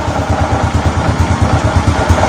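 A motorcycle engine runs loud and close, thrumming steadily with a fast, even pulse and a slight shaky vibration, with no voices.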